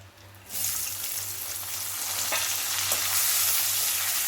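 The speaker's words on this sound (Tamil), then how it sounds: "நான் பெரிய வெங்காயம் கொஞ்சம் கருவேப்பிலை எடுத்து வச்சுருக்கேன் நான் இதை போட்டுடுறேன்" Chopped large onions and curry leaves hit hot oil in a pan for a potato masala fry, breaking into a loud, steady sizzle close by that continues without pause.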